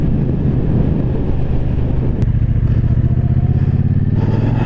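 A 2023 Triumph Bonneville T120 Chrome Edition motorcycle rides along with a steady, smooth low engine rumble, loud and close, with wind buffeting the microphone throughout and no talking.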